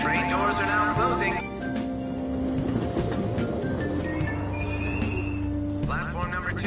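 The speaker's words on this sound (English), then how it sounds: "Train doors are now closing." Tokyo subway platform scene: tonal chimes and a station announcement over the rumble and whine of a train as its doors close and it begins pulling away, with hiss and squeal rising under the voice.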